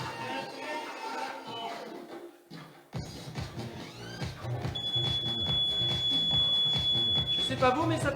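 A steady high electronic timer beep sounds for a few seconds over music and shuffling movement during a cardio and abs workout, with a voice talking in the background.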